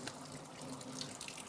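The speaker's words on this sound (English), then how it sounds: "we just take hot water and we run this under hot water" A greasy HRV (heat recovery ventilator) part is rinsed under a running hot-water tap, giving a steady, close hiss of flowing water and splashing with no talk over it.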